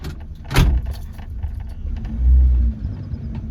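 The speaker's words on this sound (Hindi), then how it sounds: "ये धीरे धीरे मैंने गाड़ी को लेके स्टार्ट कर दिया, धीरे धीरे।" A car engine starts at close range and settles into a low idle rumble, with a short sharp knock near the start and a heavier low surge as it begins creeping forward slowly.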